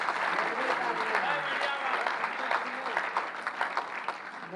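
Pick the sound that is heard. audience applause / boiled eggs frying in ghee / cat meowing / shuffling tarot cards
audience applause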